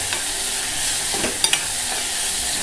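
Chavai flower buds, a Konkan monsoon vegetable, sautéed in a pan with salt and turmeric: a continuous bright sizzle with scraping stirs and two quick knocks of the spoon, no talking.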